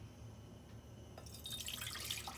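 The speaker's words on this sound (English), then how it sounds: "we're going to put our 1 cup of water." A cup of water is poured into a cooking pot, a quiet trickle and splash that starts partway through and continues softly to the end.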